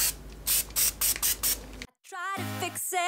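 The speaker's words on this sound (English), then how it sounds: "I'm gonna spray it just a little bit down, and then I'm gonna rub it in." CRC multi-purpose lubricant sprayed onto a vintage jewelry ring roller in six short, close hissing bursts in a steady rhythm. After a pause, a singing voice with music comes in.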